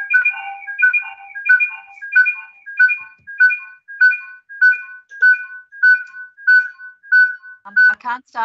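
A phone ringtone chimes in a steady repeating two-tone pattern, about a dozen bursts in a row, loud and close, interrupting an online planning panel meeting before a brief voice cuts in at the end.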